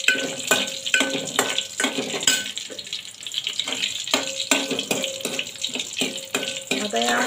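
Garlic and curry leaves frying in hot oil for Maharashtrian dahi kadhi, a loud crackling sizzle broken by regular scraping stirs, close up.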